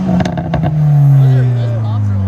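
A Toyota Supra GR with a 3.0L inline-six and straight-pipe exhaust lets out a few loud, crackling pops up close, then settles into a strong, steady droning note as it revs down, with voices talking over the first moments.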